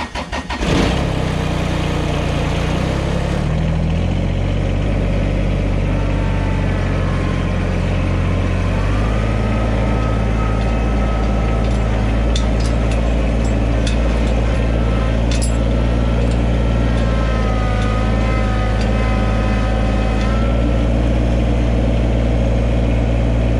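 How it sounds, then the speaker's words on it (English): A farm tractor's engine turns over and settles into a steady, loud, close idle with a constant low rumble, used in a greenhouse garden setting for hauling compost; brief metallic clanks and knocks sound over the running engine. "let's get the tractor going and we can grab some compost"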